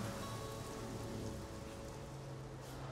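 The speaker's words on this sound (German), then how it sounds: "Glücklicherweise ließ der Regen nach." Rain falls steadily in a German-dubbed animated Tayo the Little Bus cartoon, a soft, even patter of drops on a surface that stays constant and fairly quiet throughout, with no voices over it.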